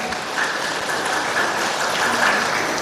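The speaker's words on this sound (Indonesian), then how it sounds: "boleh tepuk tangan." An audience at a hotel gathering for an Islamic preaching tour in North Maluku bursts into applause, a dense, even wash of clapping that holds steady at full strength for the whole stretch.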